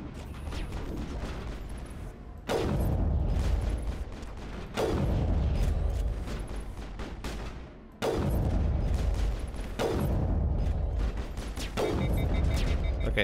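Gunfire in the Mass Effect video game: heavy, booming blasts that roll into long, dense rumbling stretches, loud and continuous with sharp onsets every few seconds.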